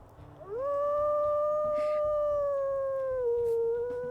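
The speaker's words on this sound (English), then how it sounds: "Let's listen to her howls." A wolf in the video game WolfQuest lets out a single long, clear howl that rises, holds steady and dips slightly near the end, loud over quiet game ambience.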